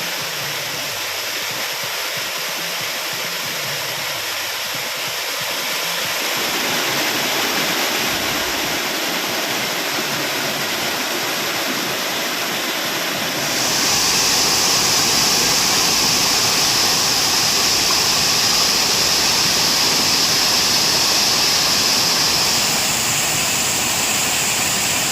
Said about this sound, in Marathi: कडेकपारीमधून फेसाळत कोसळणारे धबधबे पर्यटकांसाठी आकर्षणाचा केंद्रबिंदू ठरतात।